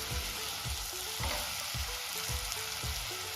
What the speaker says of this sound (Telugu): మిక్సీలో ప్రిపేర్ చేసుకున్న పేస్ట్ ని కూడా వేసి కుక్ చేసుకోవాలి